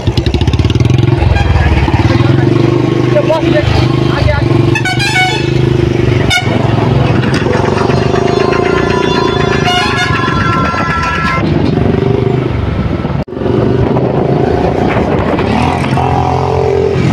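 A motorcycle rides along a busy road in Bihar, its engine droning steadily up close while car and truck horns honk repeatedly around it; a brief dropout cuts the sound near the end.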